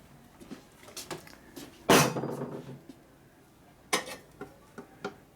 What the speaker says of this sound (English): Oh, the lead hammer.